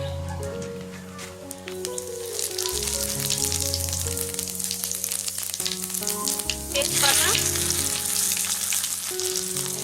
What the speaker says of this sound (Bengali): এবার আমরা একে একে তেলের ভিতরে গোটা জিরে